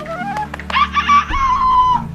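A rooster crows once, close and loud, a rising then long held call lasting about a second and a half, with faint background noise and no talking.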